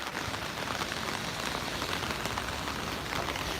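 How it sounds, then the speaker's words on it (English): Heavy rain pours down on a New York City street, a dense, loud, unbroken hiss of drops hitting the surfaces close by, with no voices. "it is absolutely pouring outside."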